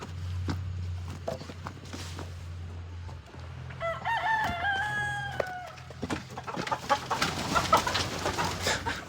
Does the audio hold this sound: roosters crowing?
yes